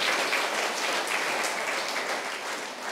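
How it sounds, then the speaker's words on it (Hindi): Lively audience applause at a quiz segment in a Buddhist vihara in Nagpur, a dense continuous patter of many hands clapping at close range, loud and unbroken for a few seconds. "जोरदार तालियां।"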